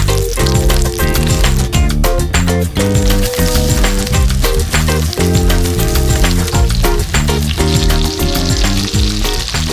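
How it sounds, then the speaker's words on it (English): Bananas frying in melted, sizzling butter in a very hot pan, a steady crackling sizzle running throughout beneath loud, continuous backing music. "And once the butter's melted and sizzling,"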